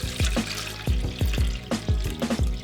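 Water poured into the bottom reservoir of a self-watering plant pot, coming in a run of uneven splashing, gurgling pulses that recur about every half second, close and fairly loud with no talking.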